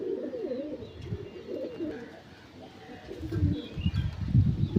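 Punjabi pigeons cooing in low, rolling phrases, close and continuous, with some rustling and faint background noise; brief chirps appear at times.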